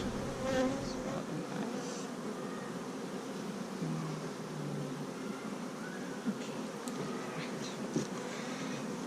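Dense, steady buzzing of many honey bees close by around an open hive, a continuous hum with occasional louder individual passes and no talking.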